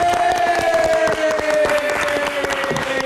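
A studio audience at an Indonesian TV talk show claps and cheers for a young singer guest, giving a loud, dense burst of applause from start to finish, with a faint tonal sound mixed in.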